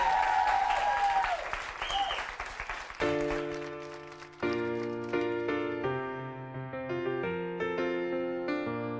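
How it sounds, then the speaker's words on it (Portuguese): Studio audience applause on a Portuguese afternoon television show, clapping for a singer arriving on stage, about three seconds of crowd clapping mixed with music, then giving way to sustained piano-like chords and melody. "Um aplauso para ele."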